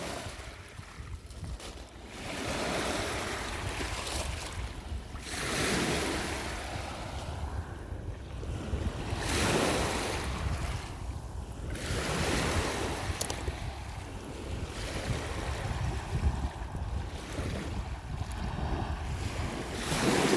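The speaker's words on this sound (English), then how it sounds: "here we are back again at Lake Ontario. It's a little bit windier and louder than I thought" Wind and surf roll onto the Lake Ontario shore, the waves swelling and breaking in a slow rhythm under constant gusty wind buffeting the microphone, loud and with no voices.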